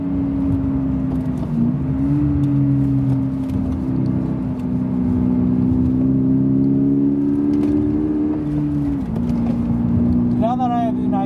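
A stock 2022 Subaru BRZ engine drones steadily during track driving, its pitch holding then dipping and rising with throttle changes in a close, loud in-car recording, with brief tire noise near the end.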